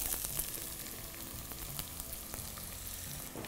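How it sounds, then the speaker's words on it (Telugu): Thinly sliced onions frying in hot oil with dried red chillies, a dense, continuous sizzle with faint crackles and stirring scrapes, close and steady, no talking. "ఈ ఉల్లిపాయల్ని కొంచెం సేపు కుక్ చేసుకుందాం"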